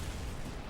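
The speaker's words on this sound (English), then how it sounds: "Nobody heard that explosion." An explosion in the video game Batman: Arkham Asylum, a dense, sustained boom with a heavy low rumble filling the whole moment at steady loudness, with no talk over it.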